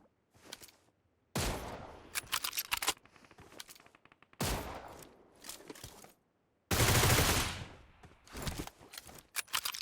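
Bursts of automatic gunfire from PUBG Mobile come in three separate volleys, the last one loudest and sustained, with rapid cracking shots and quiet gaps between them.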